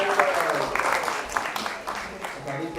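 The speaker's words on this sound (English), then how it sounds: "I think it was overshadowed by the applause." Audience at a darshan gathering at Bhaktivedanta Manor applauds, a broad clatter of many hands clapping, with voices mixed in among the crowd noise.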